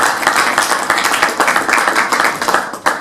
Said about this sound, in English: we give a big round of applause to our